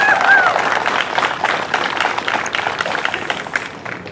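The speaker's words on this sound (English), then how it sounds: "Let's give Andy a nice round of applause." A round of applause from a crowd gathered at an outdoor veterans mural dedication in DeKalb Plaza: steady, dense clapping that holds fairly level across the whole stretch without anyone speaking over it.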